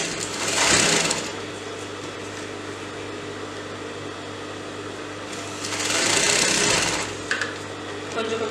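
A domestic sewing machine joins two crepe-fabric palazzo pant pieces in two loud bursts of stitching, separated by a quieter hum, with faint background noise between runs.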